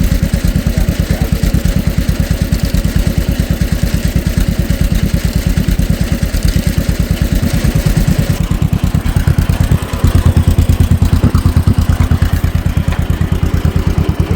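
A 1950 John Deere M tractor running while planting oats, its engine chugging in a loud, steady, even two-cylinder-like pulse close by, with a slight shift in tone partway through and no voices.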